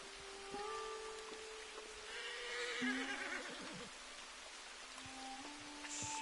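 A spooked horse in the Red Dead Redemption 2 video game whinnies loudly in the middle of the scene, a shrill falling neigh over soft rain-like ambience, with a few faint snorts and calls around it.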